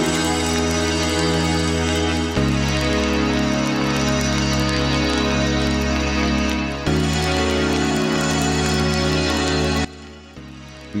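An unfiltered designed sound from a sound-design session: a loud, dense, bright synthesized drone with deep sustained bass layers that shift in steps, running steadily with an abrupt drop near the end.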